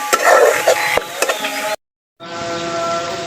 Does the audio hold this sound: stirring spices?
yes